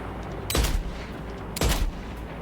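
Video game sniper rifle fire: two loud, booming shots about a second apart, each with a short echoing tail over steady background noise.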